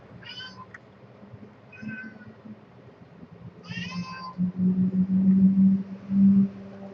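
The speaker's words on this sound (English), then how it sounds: "My cat wants out and it's raining." A pet cat meows several times, wanting to be let outdoors on a rainy day, its calls spaced out over a low steady hum that grows louder toward the end.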